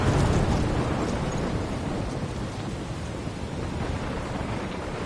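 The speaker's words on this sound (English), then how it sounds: "I'm trapped in a storm?" A thunderstorm in the video game Life is Strange: steady heavy rain with a deep rumble of thunder that is loudest at the start and fades into the continuous downpour.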